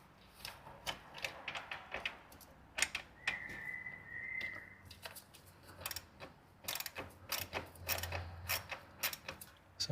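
A ratcheting wrench clicks rapidly in bursts while undoing a 13 mm nut on the starter motor of a Fiat 500X, close and crisp, with short pauses and a brief squeak between runs of clicks.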